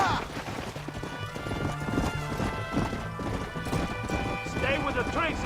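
Horses gallop with rapid clip-clop hoofbeats and occasional whinnies in the Western video game Red Dead Redemption, steady and close, as characters shout over the chase.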